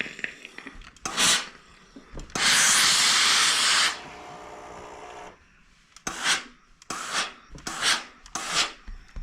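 A clothes iron presses the seams of starched fabric potholders. It gives a close, breathy steam hiss that swells into one long burst lasting about two seconds, followed by several short rubbing hisses as the iron glides back and forth.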